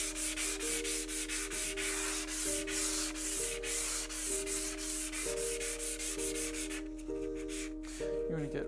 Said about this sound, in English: Now we'll use the 220 grit.